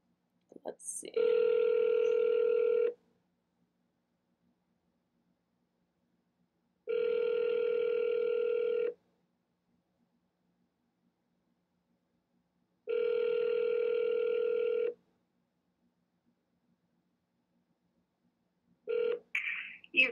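A telephone call rings out after a number is dialed: three long, even ring tones spaced by silences, then a brief burst as the line connects.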